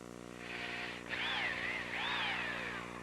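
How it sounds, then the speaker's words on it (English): A power drill boring dowel pin holes with a 1/4-inch brad point bit into oak for a coffee table joint, a steady whine that rises and falls in pitch over about three seconds, close and loud with no talk. "the holes for the dowel pins I'm making with a 1/4-inch brad point bit"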